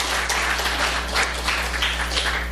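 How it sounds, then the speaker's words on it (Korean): Congregation clapping at a church Sabbath service, a soft, dense patter of applause heard from a distance over a steady hum. "우리 박수 한번 좀 쳐주십시다"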